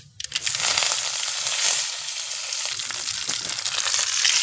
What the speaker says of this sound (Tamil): கொஞ்சமாக கடுகு போட்டுக்கலாம். கடுகு பொரிஞ்சதும் கருவேப்பிலை கொஞ்சம் போட்டு இறக்கிடலாம்.